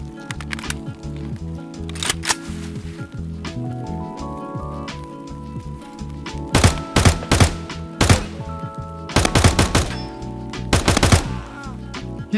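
Bursts of AK rifle fire in Escape From Tarkov, clustered volleys of sharp loud shots separated by short pauses over a busy game soundscape with music-like tones, no talk.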